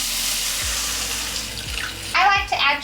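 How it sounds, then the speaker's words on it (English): Water pours in a steady rushing stream into a pot of Bengali-style pomfret fish curry with potatoes. A short voice breaks in near the end. "we're going to add some water"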